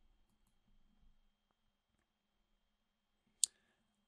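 A single crisp computer mouse click in an otherwise quiet room, heard once near the end.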